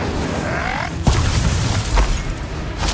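An Incendio fire spell cast in Hogwarts Legacy, a rising whoosh that bursts into a loud fiery boom, followed by crackling flame and a second thump.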